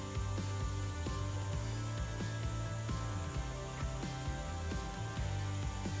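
CNC lathe Z2 axis jogging toward the sub spindle during setup, a quiet, steady mechanical whir with regular clicking pulses from the handwheel-driven motion, no talk.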